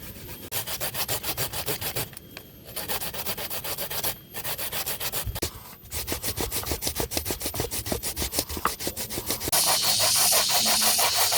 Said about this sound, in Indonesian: Proses kedua kita parut dulu, dihaluskan.